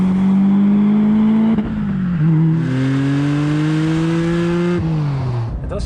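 The naturally aspirated four-cylinder engine of a 2002 Renault Clio Sport revs hard and loud, its tone climbing through rising pulls with brief dips at gear changes.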